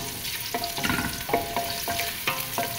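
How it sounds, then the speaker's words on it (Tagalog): Ginger and then garlic sauté in hot oil in a pan, a steady close sizzle broken by a spatula scraping and stirring about every half second. "igisa na natin ang ating luya. Sunod natin ang ating bawang."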